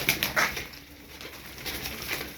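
Tumbler pigeons in a flock of about fifteen birds give soft coos and a few fluttering wing sounds. The quiet, close bursts come at irregular moments, with no talk.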